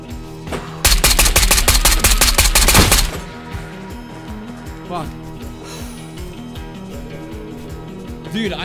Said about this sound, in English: What was he shooting at me with? Yeah, Mosin. It was a Mosin.